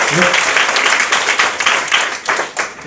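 An audience in a classroom or lecture hall breaks into applause for a student, a dense crowd of clapping hands sustained throughout with a voice briefly audible underneath.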